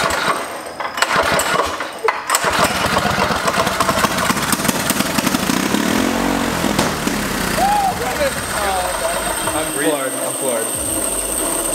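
A turbocharged go-kart engine runs loud and close, revving and roaring with a rising turbo whistle near the end as it builds boost, and people talk over it.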